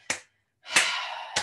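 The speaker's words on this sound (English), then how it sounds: "Let's just clap the hands." Hands clap in a yoga class: three sharp, close claps spaced about half a second apart, with a brief rushing rub between the second and third.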